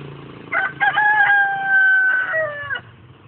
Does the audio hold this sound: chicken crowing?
yes